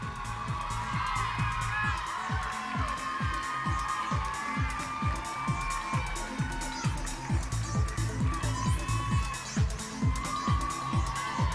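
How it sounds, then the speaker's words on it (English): A pageant audience at the Miss Teen USA 2009 presentation show cheers and applauds contestants returning to the stage, with whoops and shouts over clapping while a pounding rhythmic music beat drives underneath throughout. "Give them a nice round of applause."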